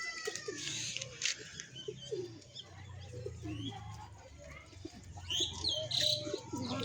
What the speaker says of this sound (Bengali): ওই দেখতে পাচ্ছ একটা পায়রা